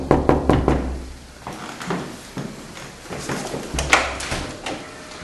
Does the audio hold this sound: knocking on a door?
yes